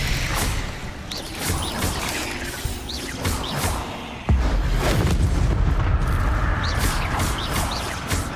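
Expelliarmus spell cast in the video game Hogwarts Legacy, a dense magical blast with booming, crashing layers that swell sharply midway and stay loud and full to the end.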